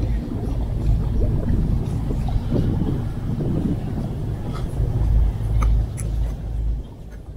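The Changi ferry from Singapore to Pulau Ubin churns along with a steady low engine rumble, water rushing against the hull and gusts of wind buffeting the microphone, constant and fairly loud throughout.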